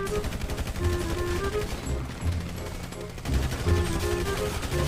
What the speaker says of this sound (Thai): ใช้อาวุธก็มาเล่นยิงปืนกันได้ครับ